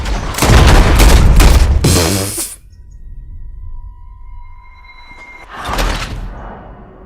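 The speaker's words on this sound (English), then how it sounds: "Shoot the gun at Jamie's hand." A loud gunshot burst fired at a man's hand in Red Dead Redemption 2, a heavy boom followed by a tail of fading ringing tones, then another strong blast near the end.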